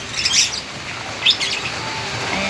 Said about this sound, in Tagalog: nagpakain pa tayo ng ibon